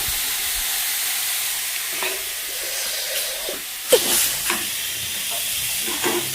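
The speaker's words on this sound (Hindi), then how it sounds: "मछली फ्राई भा गेल है और अच्छा मसाला भूज रहा छी" Masala roasts in a pan after fish has been fried, giving a loud, steady sizzle with hissing steam, broken by a sharp spatula knock and a few scraping stirs in the later half.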